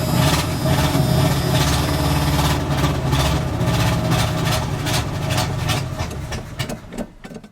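A 1984 GMC truck engine idles steadily with a continuous low rumble and mechanical chatter, close and loud, before tapering off near the end.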